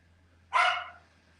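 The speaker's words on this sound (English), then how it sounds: "my dog is going crazy downstairs for some unknown reason" A dog barks once from downstairs, a single short bark that is fairly clear but slightly distant, against a quiet indoor background with a low steady hum.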